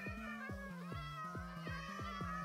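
A cat in Minecraft with a Garfield texture gives repeated meows, heard alongside a steady, rhythmic melodic game sound that pulses about twice a second.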